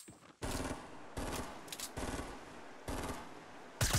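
Gunfire from the video game Fortnite Battle Royale: several loud bursts of rapid automatic shots, each lasting under a second, separated by short quieter gaps, with no talking.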